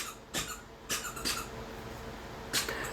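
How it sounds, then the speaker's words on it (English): A dog squeaks a squeaky toy in a few short, separate bursts, close and fairly clear over a quiet indoor background. "At least he's using a squeaky toy, not my hand."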